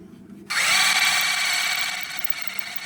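A power drill with a large drill bit whirs to life and spins at a high, steady pitch, close by, for a couple of seconds before easing slightly.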